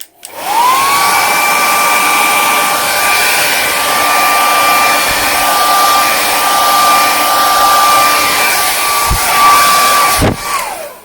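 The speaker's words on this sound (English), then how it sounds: "Hairdryer coming again." A hair dryer switches on and blows steadily over acrylic paint during pouring, with a loud whining hum for several seconds, then clicks off, with a few faint knocks near the end.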